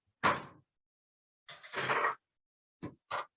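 An oven door is shut on a tray of sugar cookies going in to bake: a sharp clunk, a longer scraping slide of metal, then two short knocks. The sounds are close and there is no talk.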